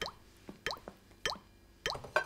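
Water drips into a saucepan in a steady, slow sequence of about five plops, each one a short bright drop with a rising ring, close and moderately quiet.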